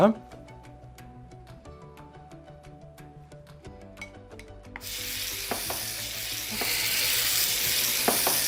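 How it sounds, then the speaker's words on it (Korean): Soy-based vegan bulgogi seasoned with sugar and sesame oil is stir-fried and reduced in a pan. A steady sizzle swells in and grows louder under gentle background music, with occasional scraping strokes from stirring. "볶으면서 약간 졸여줍니다."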